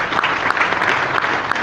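Loud, dense applause from a large audience at a motivational talk, a continuous burst of many hands clapping with no voices over it.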